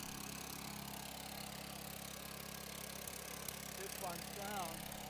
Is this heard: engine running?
yes